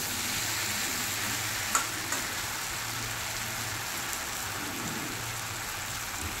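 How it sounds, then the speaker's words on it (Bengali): Pointed gourd and prawns sauté in a pan for a curry, giving an even, dense sizzle like light rain, with a couple of brief utensil taps early on and no talking. "খানিকক্ষণ এইভাবে ভালো করে কষিয়ে নিয়ে যখন একদম শুকনো হয়ে আসবে"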